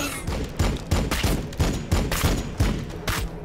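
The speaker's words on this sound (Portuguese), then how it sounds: "Vou atirar aqui embaixo." Rhythmic gunfire in the Warhammer 40k Battlesector video game, with a Librarian Dreadnought in play: about eight heavy, evenly spaced booming shots with a thudding low end, loud and close, with no talking.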